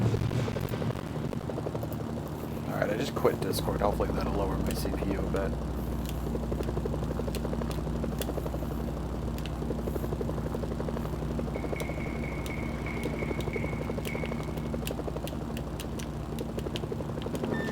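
Helicopter in the video game Mercenaries: Playground of Destruction, a steady low rotor drone running throughout beneath someone talking over it.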